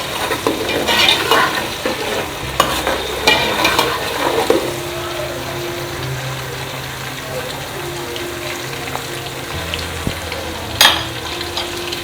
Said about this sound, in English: You can also allow this simmer for 2 minutes so that all the flavors can mix in.